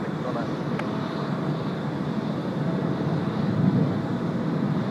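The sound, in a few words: airliner taking off from runway at Tokyo Haneda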